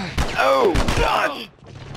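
A gunshot headshot in The Last of Us video game: two or three loud close shots with sharp onsets and ringing tails, mixed with a strained vocal cry, then a sudden drop to quiet.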